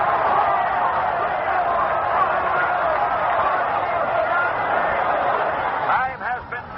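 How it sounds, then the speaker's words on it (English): Football crowd roaring in Yankee Stadium during an Army game, a loud continuous wash of cheering that dips slightly near the end. "Listen to this crowd in the Yankee Stadium."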